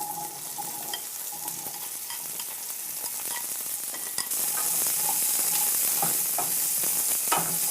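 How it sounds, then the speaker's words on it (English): Green beans sizzle and fry in a hot pan for a green bean subji, a steady close crackle that grows louder midway, with occasional stirring scrapes and no talk. "I'm going to put in the green beans."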